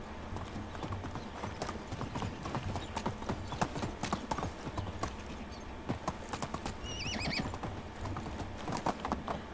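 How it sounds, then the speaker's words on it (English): A horse in the video game Medieval Dynasty, with continuous rhythmic hoof clip-clops and a brief whinny partway through, fairly close and steady. "Yeah, I hear you, horse."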